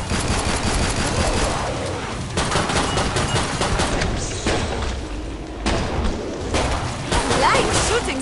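Gunfire from the co-op shooter Killing Floor 2 on Hell on Earth difficulty, a continuous dense barrage of shots and booms with a voice talking over the din.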